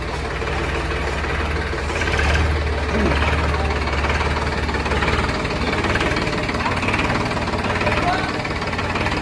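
A Farmtrac 30 Hero tractor's diesel engine runs close by, a loud, steady, unbroken rumble with a low hum beneath it and voices faintly in the background.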